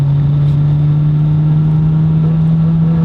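An ATV drives close behind, its engine a steady loud drone with a strong low hum that holds even for the whole stretch, no voices over it.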